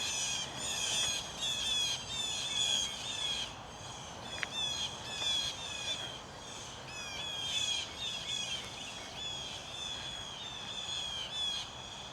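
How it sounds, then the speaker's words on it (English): Several birds squawk and screech repeatedly in the distance, harsh calls overlapping in irregular bursts with no talking. "those birds are crazy"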